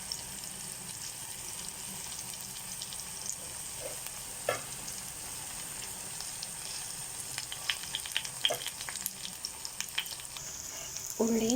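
Curry leaves sizzle in a pan of sautéed onion and tomato masala for a sardine curry, a soft continuous frying hiss with scattered pops and a few stirring clinks, no talking.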